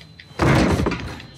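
A heavy door in Uncharted 4 shoves open with a broad thudding scrape lasting under a second, close and fairly loud, trailing off into quieter rumble.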